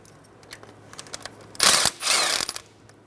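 A ratchet works on the valve cover bolts of a 2007-2012 Nissan Altima, giving faint scattered clicks and then two louder, rasping bursts of rapid ticking close by.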